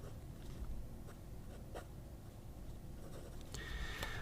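A Conway Stewart fountain pen with an 18 karat medium No. 6 nib writing on paper, a very faint, close scratchy glide with light strokes and a few soft ticks.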